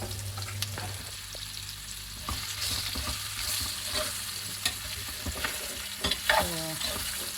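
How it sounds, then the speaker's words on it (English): Bitter gourd pieces dry-frying in an earthenware pot give a soft, low sizzle, broken by scraping stirs and light clinks of a utensil against the pot, fairly quiet and close, with no voices. "Give it a bit of a dry frying a little bit"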